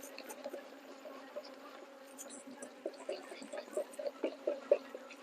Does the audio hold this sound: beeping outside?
no